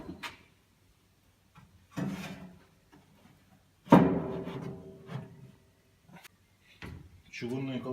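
Heavy cast iron grates for a heating fireplace insert being handled, with several separate clanks and scraping knocks of metal against metal and the firebox, irregular and close.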